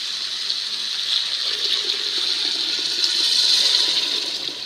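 Water gushes steadily into a pot of washed masoor dal in a home kitchen, a loud, close, continuous pouring rush with no talk over it.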